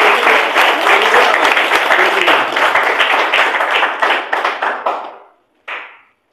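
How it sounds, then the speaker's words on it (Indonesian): A church congregation breaks into loud, dense applause for Jesus, the clapping steady for about five seconds before fading out, followed by one brief final burst. "Tepuk tangan bagi Yesus."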